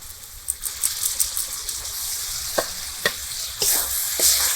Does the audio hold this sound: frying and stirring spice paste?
yes